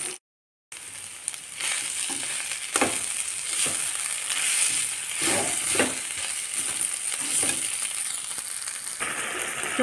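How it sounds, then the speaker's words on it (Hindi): Masala spices with drumstick pods fry in a pan, giving a steady loud sizzle broken by scraping stirs. No one speaks. "हमारा अच्छे से मसाला भून चुका है"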